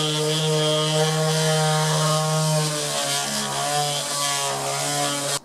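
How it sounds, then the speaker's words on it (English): A small electric mouse sander working sealer off a Harley Benton Jazzmaster kit guitar body, running as a loud, steady buzzing whine with a constant hum for several seconds before cutting off at the end. "I've got a little mouse sander."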